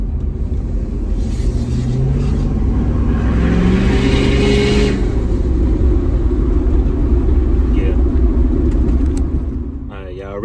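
Tuned Ford F350 6.7 Powerstroke diesel truck accelerating down a street, a loud deep rumbling engine drone that climbs in pitch through the pull, heard from inside the cab with the rear window down, easing off near the end.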